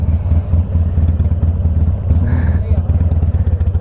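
An Iron motorcycle engine idles close by with a loud, steady, lumpy pulse that repeats evenly throughout, and a person's voice is briefly heard over it.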